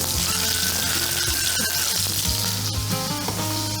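Steady sizzling of beef frying in a hot pan, continuous crackle and hiss with occasional small pops, close and fairly loud, no voices.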